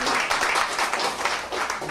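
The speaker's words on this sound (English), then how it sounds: "Give yourselves a round of applause, please." Applause from a stand-up comedy audience, a dense steady wash of clapping that holds loud and even for the full two seconds, with no talking over it.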